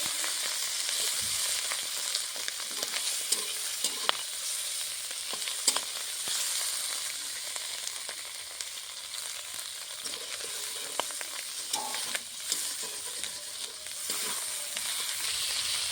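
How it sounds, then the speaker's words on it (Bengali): Fish oil fries lightly in a pan with a long, even hiss and scattered soft crackles at moderate volume, alone without speech. "মাছের তেলটা আমি হালকা করে ভেজে নেব"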